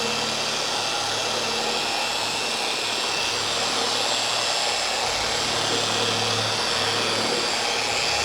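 A car polisher with a medium cut pad runs at low speed spreading compound on a 1968 Cobra kit car, a loud steady whirring hum with a buzzing motor tone throughout, no talking.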